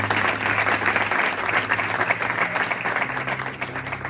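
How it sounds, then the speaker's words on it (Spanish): Steady applause from a church congregation during a sermon, dense clapping sustained throughout with a faint low hum underneath. "Dale un aplauso, que se lo merece."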